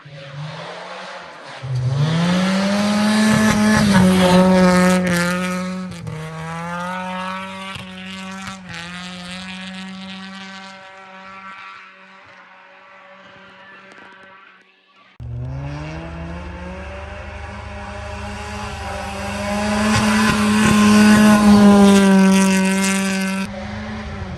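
A Volvo 740 car drives in the snow on winter tires. Its engine revs up and holds a steady drone, eases off, then pulls again with rising revs and faint tire noise.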